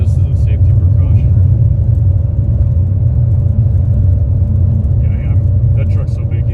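A big truck rumbles past at a steady loud level while dragging something beneath it, a continuous low road roar with scattered higher scraping bursts, heard under and between brief bits of nearby talk.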